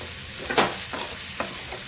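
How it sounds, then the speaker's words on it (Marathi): Tomatoes sautéing in a pan for methi malai matar give a steady soft sizzle, with a few scraping spoon strokes as they are stirred, no voices. "टोमॅटो पण चांगला मऊ होईपर्यंत परतून घ्यायचं"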